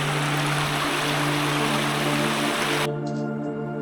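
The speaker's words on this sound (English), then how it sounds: "I saw all the small water streams take into the big path and convert into the big river like this." A small stream in the hills near Jiwati and Manikgad Fort in India flows with a steady broadband rush, close and continuous, then cuts off abruptly to a quieter tonal hum near the end.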